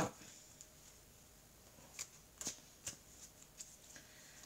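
A deck of oracle cards shuffled by hand: soft, papery riffles and snaps in irregular bursts, close and fairly quiet against a near-silent room.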